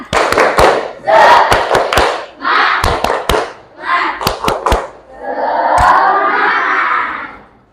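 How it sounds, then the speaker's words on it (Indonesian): A group of teacher-training participants claps a 'tepuk semangat' cheer: bursts of sharp, rhythmic hand claps alternate with loud group chanting, closing on a sustained shouted cheer. "Coba tepuk semangat"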